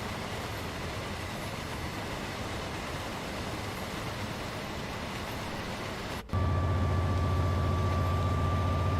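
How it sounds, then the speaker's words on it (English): In the Train Sim World 4 freight game on the Gospel Oak–Barking line, a train rolls along with a steady rumbling rail roar; partway through it shifts to a louder, lower drone with a sustained tone. "We've got some wheel flat noises."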